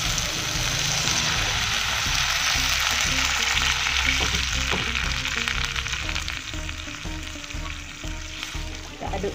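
A pan of Indomie noodles in water bubbles and sizzles steadily at close range, with occasional light clinks of stirring, and no talking.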